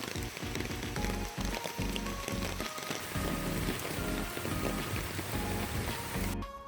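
Heavy rain pours down outside, a dense, loud and steady hiss of drops on surfaces with scattered heavier patters, continuous throughout with no talking.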